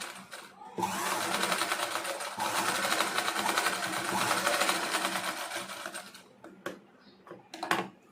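A sewing machine stitches a folded fabric strip around the curved shoulder of a blouse, running steadily and loudly for about five seconds before slowing into a few short bursts and then stopping.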